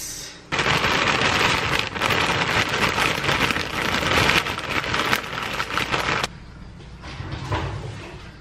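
Vanilla oat milk poured into a bowl of rice, a steady rushing splash that starts abruptly, runs for several seconds and then cuts off, leaving quieter kitchen noise.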